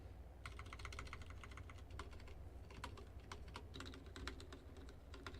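Fingers type on a budget office mechanical keyboard with slightly scratchy, rattly switches and a loose spacebar stabilizer, giving irregular bursts of close, quiet key clacks in quick clusters with brief pauses.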